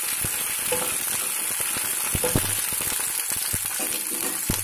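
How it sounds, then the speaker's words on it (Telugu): Ivy gourd pieces fry uncovered in an open pan for a chutney, giving a steady close sizzle with frequent sharp crackles and pops throughout. "దొండకాయ ముక్కలు మగ్గుతున్నాయి కదా"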